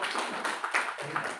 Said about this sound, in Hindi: और जब ताली बजा रहे हैं